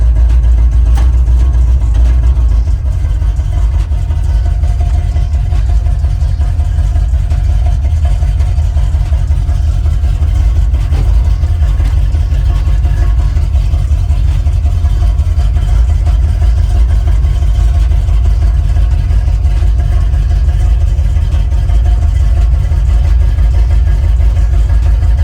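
A Chevy 6.2 engine in a box Chevy idles loudly and steadily, a deep continuous rumble that holds constant for the whole stretch with no voices over it.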